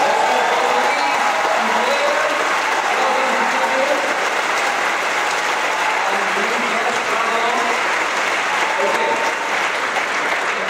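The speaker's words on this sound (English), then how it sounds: "we need to have a huge round of applause for our two opening soloists" An audience at a Christmas choir concert applauds the two opening soloists, a loud, sustained wash of clapping that holds evenly for about ten seconds.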